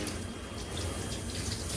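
Water runs steadily from a tap, splashing continuously onto a dog being bathed close by with a constant hiss, no voices heard.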